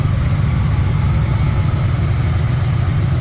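A car engine runs steadily at idle with a deep, constant rumble and no change in pitch or level while the car is being turned around.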